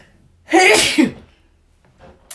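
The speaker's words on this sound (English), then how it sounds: "Again with the sneezing." A single loud, close sneeze with a sharp burst of breath, followed by quiet and a faint rustle near the end.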